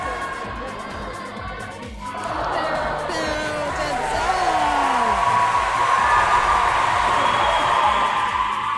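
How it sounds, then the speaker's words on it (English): Audience applause and cheering at a rookie and open lead climbing competition qualification, a broad crowd wash that swells after the first couple of seconds and holds steady, with a voice rising over the din. "You can hear from the applause"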